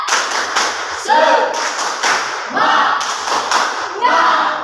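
Standing students in a classroom repeat a rhythmic spirit clap, giving loud clustered bursts of clapping with group voices in repeating waves.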